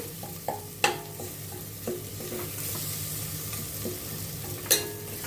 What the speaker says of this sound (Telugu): పసుపు కారం వేసి ఒకసారి కలపాలి.